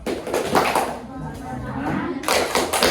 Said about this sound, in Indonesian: Boleh kasih tepuk jempol.